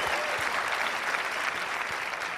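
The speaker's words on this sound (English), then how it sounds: "And let's give Ed Gucci and the choir a round of applause." Audience applause for a choir leader and choir at a leadership event, dense continuous clapping from a large crowd, steady and full for a couple of seconds without speech.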